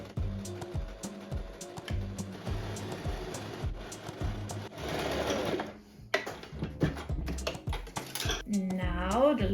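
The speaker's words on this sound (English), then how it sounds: "First I overlock this side that I haven't overlocked yet, then I will sew along here for the hem." A sewing machine overlocks the raw edge of linen fabric for a summer skirt, a fast mechanical stitching chatter running in bursts with brief pauses and clicks, close and steady, with some faint handling noise.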